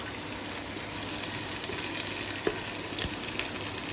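Ghee heating in a pan gives off a steady, close sizzle with soft crackling through the whole stretch, and a few sharper pops rise above it. No one is talking.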